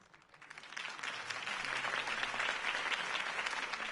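A crowd applauds after a campaign speech in Batman: The Telltale Series, dense clapping that swells quickly from a few claps to a steady, fairly loud wash and holds without voices.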